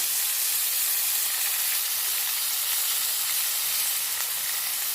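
Onion and ginger paste sizzles loudly in hot oil while cooking a Bengali tangra fish curry: a steady, dense, close hiss and crackle that holds without a break, with no talking.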